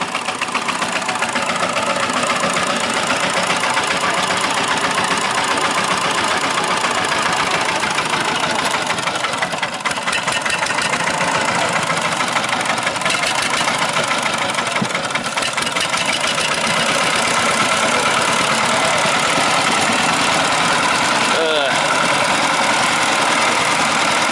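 A Lao itok local vehicle's engine idles right after starting, a loud, steady mechanical drone with rough knocking vibration running unbroken and close for the whole stretch.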